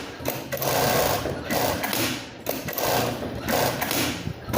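A Jack A4F industrial sewing machine with trimmer runs in repeated bursts of rapid mechanical stitching, each about a second long and separated by brief pauses, loud and close.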